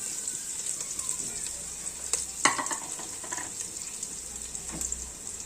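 Garlic and ginger sizzle in a hot frying pan, a steady close crackle with a few clinks and stirring scrapes, and no one talks over it.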